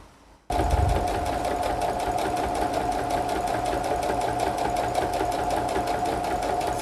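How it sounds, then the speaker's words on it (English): A sewing machine runs steadily and close, finishing the waistband of a wrap skirt from the wrong side, its fast rhythmic stitching starting abruptly after a brief quiet moment and continuing evenly throughout. "So I'm sewing this on the wrong side to finish the waistband"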